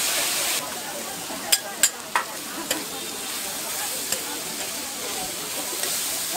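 Jianbing batter frying on a hot street-food griddle: a steady hiss and sizzle runs throughout, broken by several sharp scraping clicks from utensils, with no one speaking.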